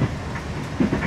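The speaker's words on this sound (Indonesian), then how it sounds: "Jadi baru saja diberangkatkan dari stasiun Pasar Senen, kereta Gaya Baru Malam tujuan Surabaya Gubeng." Gaya Baru Malam Selatan economy new-generation train, heard from inside the cabin just after leaving Pasar Senen station for Surabaya Gubeng; a brief, steady rolling rumble with a couple of soft clunks near the end.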